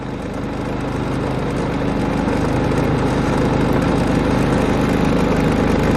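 Steady, droning hum of a Predator 3500 generator powering only the fan of a 15,000 BTU RV air conditioner, an even, continuous mid-low engine tone heard up close with no breaks and no voices.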